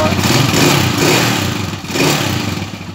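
A Honda TMX155 motorcycle engine runs after a valve adjustment with intake and exhaust set to 0.8 mm. It makes a loud, close, steady mechanical hum with slight rises and dips in revs.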